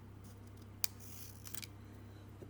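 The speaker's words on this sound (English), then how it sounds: "I'm just going to kind of cut little slivers" Scissors snip paper into thin slivers for a snowman's scarf, giving a couple of faint, close, crisp cuts in a quiet room.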